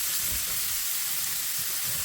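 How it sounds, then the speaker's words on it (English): Sausage sizzles in a Modern Innovations 10-inch skillet, a steady, even frying hiss that holds throughout with no talk. "Now that the sausage is cooking"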